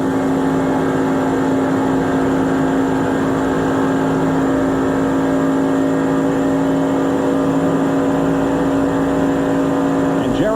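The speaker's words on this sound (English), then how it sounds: "We can hear the engine in Mark Martin's car." Mark Martin's Valvoline Ford race car at the 1994 Pepsi 400 roars from an in-car view, its engine holding a loud, steady high-rpm drone with strong harmonic tones for about ten seconds, with no change in pitch and no voices heard.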